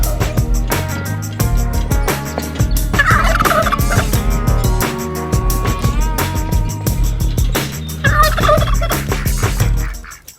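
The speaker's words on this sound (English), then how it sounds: "turkeys, ducks and geese." Turkeys at an animal sanctuary gobble loudly and close by, in repeated overlapping bursts that keep going with little pause.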